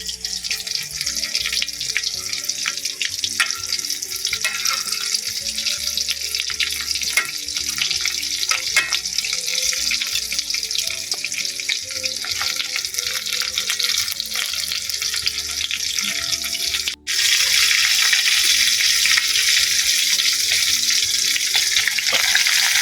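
Food frying in hot oil with garlic and ground pepper, a loud steady sizzle with sharp oil pops throughout, briefly cut off near the end before resuming slightly louder.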